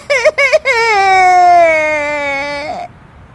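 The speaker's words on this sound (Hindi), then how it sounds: "उसकी रोने की आवाज सुनकर सभी वहां आ जाते हैं।" A woman in a Hindi family drama story breaks into a few short sobs, then lets out one long, loud, sustained wail that trails off, heard alone without talk.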